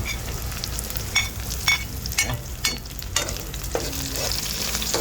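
Onions sautéing in a pan alongside garlic for a patola vegetable stir-fry, a steady close sizzle with scattered scraping stir strokes, no talking.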